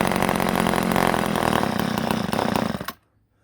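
An old chainsaw, left sitting for over twenty years, roars loud and close at high revs for several seconds, the engine sputtering slightly before cutting out abruptly into near silence.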